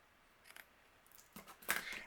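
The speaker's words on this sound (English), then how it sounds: "So I'm going to trim a little bit away." Small scissors trim paper pine needles for a Christmas shaker card, giving two faint, close snips, the second slightly louder, in a quiet room.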